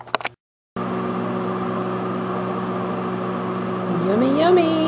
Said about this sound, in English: put them back in the microwave for about 4 minutes